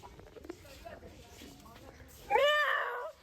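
A cat at Patna Zoo gives a loud, close meow lasting nearly a second near the end, after a stretch of quiet chatter and outdoor background noise.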